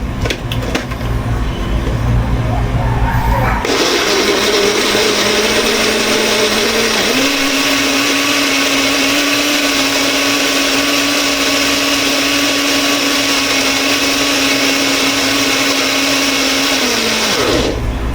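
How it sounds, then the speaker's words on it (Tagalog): A countertop blender whirs loudly and steadily for most of the stretch, blending squash-cake batter for dogs, its motor pitch rising slightly midway before cutting off at the end. "Sana, simula tayo i-blend na natin to."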